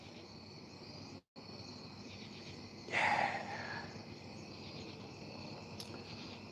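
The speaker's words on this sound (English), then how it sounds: "You hear the crickets?" Crickets chirp steadily outdoors at dusk, a faint continuous high trill with a brief louder rustle in the middle and a single short spoken word.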